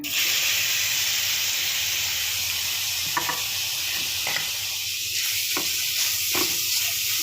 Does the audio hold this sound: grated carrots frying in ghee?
yes